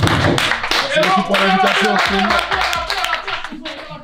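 Hand clapping sounds in a short burst of quick claps under a voice, close and moderately loud, with speech running over most of it.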